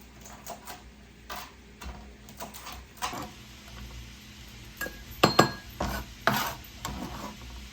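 Irregular taps and clinks of a knife chopping bacon on a board and against dishes, close and fairly quiet, with sharper knocks clustered near the end.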